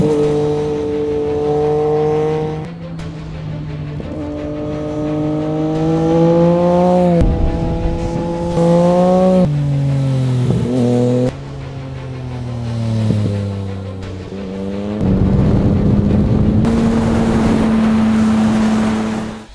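A Yamaha MT-09 naked motorcycle's 847 cc three-cylinder engine revs repeatedly on a test ride, its pitch climbing and falling through several gear changes, loud and close with no talk.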